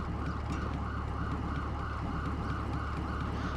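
Ambulance siren in the video game GTA 5, a steady wailing tone that rises and falls continuously over a low engine rumble, loud and close throughout.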